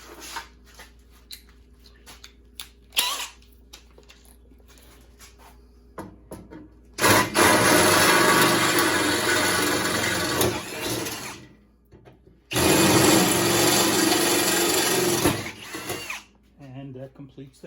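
A power drill with a 3/8 drill bit bores holes while a John Deere seat is being installed, two long sustained whining bursts separated by a short pause, close and loud, with quieter handling noises before and between them.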